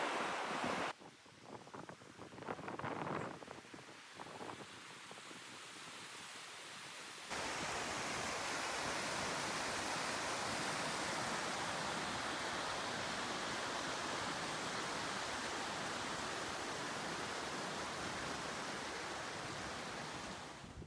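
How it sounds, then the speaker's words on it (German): Water rushing over the weir of an old mill that feeds a mill stream, a saw mill and a turbine: a broad, steady roar, quieter and uneven at first, then loud and continuous. "Mit dieser Wehranlage wird der Durchfluss des Wassers reguliert, der benötigt wird für die Kolbenmühle."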